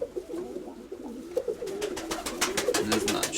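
A pigeon coos on its nest in a low, throaty rolling drone that carries steadily, close by and moderately loud, with no one talking over it.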